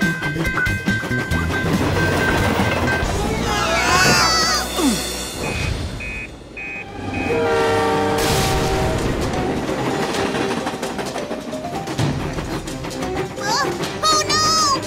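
A cartoon train rumbles and clatters loudly throughout, with harmonic horn-like tones and whistles sounding over busy sound effects.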